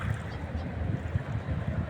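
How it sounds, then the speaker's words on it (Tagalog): Wind by the sea buffets the microphone in a low, constant rumble with gusty fluctuations throughout. "ano bang hangin dito?"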